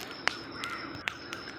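Crows in a village garden give a few separate caws, one loud near call followed by fainter ones, spaced apart over a low outdoor hum.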